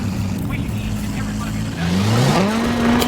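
Racing car engine in the CPM2 drag race video game, droning steadily, then revving up through rising pitch sweeps as it accelerates, loud and close throughout.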